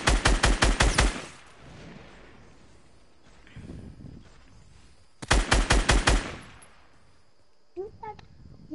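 Automatic gunfire in a PS4 video game: two loud bursts of rapid shots, each about a second long and several seconds apart, with quieter game noise and brief voices in between.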